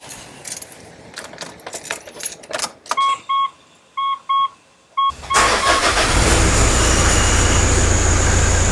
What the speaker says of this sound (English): So what you want to do is start up the car.